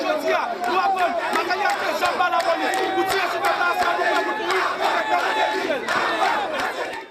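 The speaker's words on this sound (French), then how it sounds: "La foule qui est sur place manifeste à son mécontentement et réclame le départ du chef de l'État" A large crowd of protesters shouting and chanting together in the street, demanding the head of state step down; a loud, continuous roar of many voices with individual yells rising above it.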